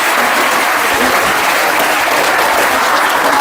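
Loud, dense applause from an audience of children, steady sustained clapping filling the space with no break.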